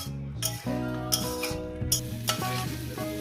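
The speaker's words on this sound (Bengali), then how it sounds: "আদাটা ঘষে দিলাম তারপর এটাকে আমি একটু কষিয়ে নেবো এক মিনিট" Grated ginger sautéing in a pan for a Bengali khesari greens chorchori, a close steady sizzle under a sustained tonal hum with a few soft utensil clinks.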